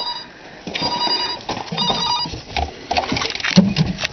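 A telephone rings indoors in bursts of electronic trilling tones, mid-loud and repeated across the whole span with slight room noise underneath.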